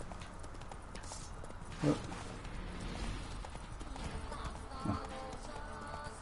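Hoofbeats of Geralt's horse Roach galloping in The Witcher 3, a steady muffled clip-clop running under game ambience, with a couple of short louder thumps and brief voice exclamations.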